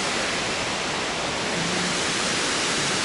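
The uppermost waterfall on a mountain trail roars as a loud, steady, broadband rush of falling water, close by and continuous with no talk over it.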